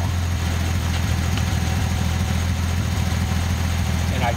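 A Datsun 280ZX turbo engine idles with a steady, even low rumble and no change in revs, heard close by with no talk over it.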